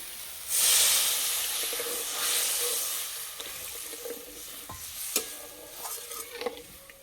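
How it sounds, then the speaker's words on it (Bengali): Water goes into fried spice masala with yogurt for an egg omelette curry, bursting into a loud hiss that settles into a steady sizzle with occasional stirring knocks, close by and without talk. "মশলা কষিয়ে নিয়েছে, এবার জল দিয়ে দেবো।"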